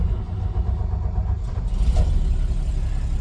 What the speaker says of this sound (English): So we're going to go ahead and start it, turn the key on.